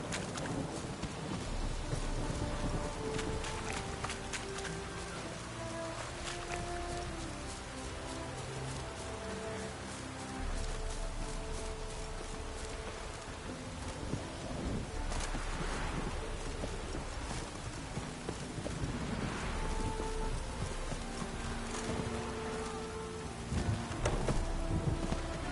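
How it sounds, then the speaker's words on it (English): Steady rain pours through a storm in The Witcher 3, with rumbling thunder building and rolling in the middle and near the end, all layered with a low game-music drone and no talking. "A storm, damn it."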